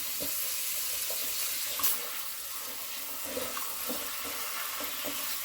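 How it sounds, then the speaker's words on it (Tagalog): Tap water runs steadily into a sink while string beans are rinsed under it, with faint clatter and splashes from handling over the constant broadband hiss. "Hugasan lang po natin itong sitaw natin"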